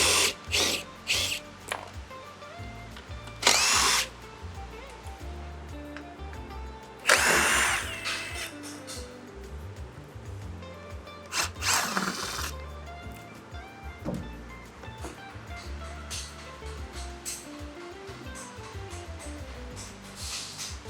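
A power drill whirs in several short bursts, removing the fasteners from a side panel of an RX1E electric motorcycle; the brief, loud runs are separated by quieter handling noise, and no one speaks.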